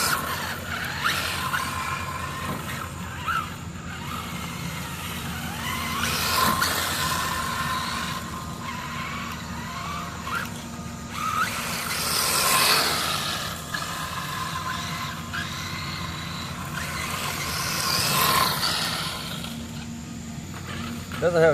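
A Wltoys 12428 RC car fitted with drift tires drifts around, its small motor whining and tires scuffing in rising and falling sweeps over steady outdoor background noise, with someone talking at times.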